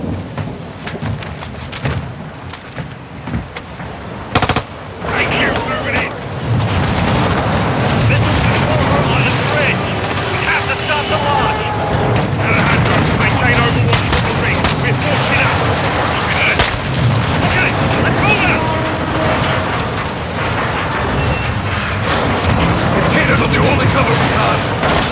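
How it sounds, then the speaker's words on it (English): Booming blasts and crackling gunfire from a Call of Duty: Modern Warfare II gunfight, with explosions amid rain and storm noise, loud and dense throughout, with shouted voices over the fighting. "Let's have ourselves a gunfight!"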